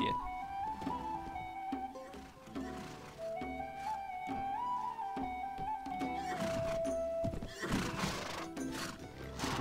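Horse whinnying and neighing in the Mount & Blade Warband game, repeated loud neighs with wavering pitch over clip-clop hooves and battlefield ambience.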